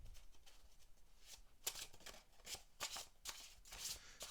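A deck of tarot cards is shuffled up close in quiet bursts of crisp, riffling paper flutters and soft slaps, coming in irregular clusters with short pauses between them.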